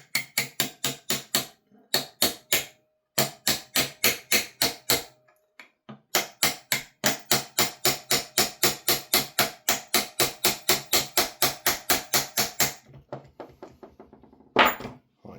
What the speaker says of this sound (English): We'll tap this back in here with a pin punch and a hammer.